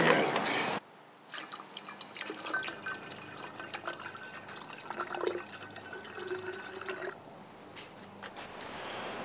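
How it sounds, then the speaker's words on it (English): Muriatic acid poured into a glass jar of clean water holding a rock of about three-quarters of a pound, giving steady close trickling, dripping and splashing liquid sounds that fade near the end. "Now we add the muriatic."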